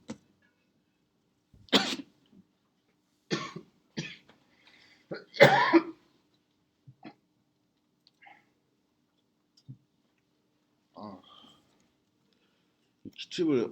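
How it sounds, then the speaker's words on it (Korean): Repeated coughing bursts from a person in a quiet room, several separate harsh coughs spaced across the stretch with short pauses and softer throat noises between them. "기침을 엄청 많이 하면 제가 목이 아플 줄 알았는데 배가 땡겨요"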